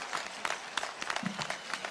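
Faint, distant applause from a university commencement audience, a soft patter of many hands clapping continuously without standing out.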